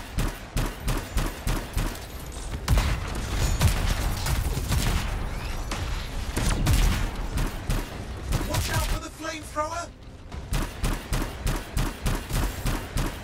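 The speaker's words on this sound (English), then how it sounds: "Trying to shoot the explosives on his back" Rapid gunfire crackles in the Anthem video game as players shoot at explosives on a big enemy's back, dense bursts of loud shots with booming impacts and a short lull near the end before firing resumes.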